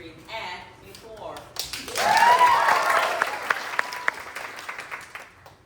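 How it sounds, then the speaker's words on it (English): An audience at a stage musical claps, applause rising and then thinning out to scattered claps, heard under speech and other stage sounds. "Thank you for the applause."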